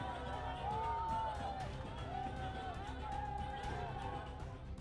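Student protesters celebrating together: a lively crowd roars and whoops continuously, with a voice talking loudly over the din throughout.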